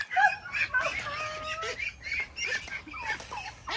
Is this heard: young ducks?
yes